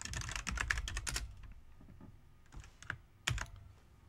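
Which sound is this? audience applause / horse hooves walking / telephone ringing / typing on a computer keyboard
typing on a computer keyboard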